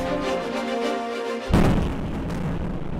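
Artillery shelling and gunfire from the Russian invasion of Ukraine, heard as a sustained rumbling barrage that breaks into a loud, sharp blast halfway through, followed by continued heavy booming.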